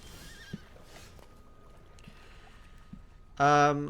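A horse neighs in a card video game: one loud, close whinny bursts out at the very end after a quiet stretch with a few soft thumps.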